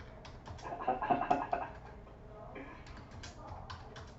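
Someone types on a computer keyboard, producing irregular light clicking in quick clusters that is faint and fairly close, with soft background sound.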